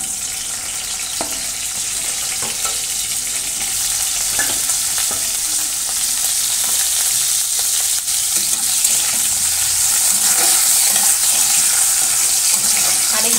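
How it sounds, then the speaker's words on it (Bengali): Black cumin seeds frying in hot oil in a wok, giving a steady bright sizzle throughout with a few small clicks and scrapes of stirring, close and fairly loud, with no talk. "দেখো কড়াই দিয়েছি তেল আর কালো জিরে,"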